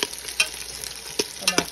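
Pork belly fries in olive oil in a pan until golden brown: a steady close sizzle broken by sharp crackles and stirring scrapes, with no voices.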